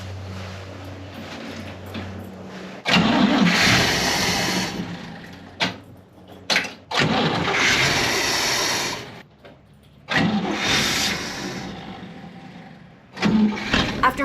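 A car engine turns over and runs in loud bursts, cutting out and revving again several times, with short quiet gaps between the runs.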